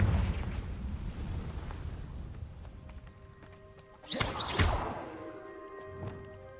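A Confringo blasting spell bursts in the Hogwarts Legacy video game, a sharp, loud explosive crack with a bright fizzing flare and a short ringing tail over steady game ambience.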